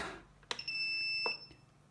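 A high, thin electronic beep from a power inverter overloaded by a 200 W lamp holds for about a second, with a few soft clicks around it in an otherwise quiet room.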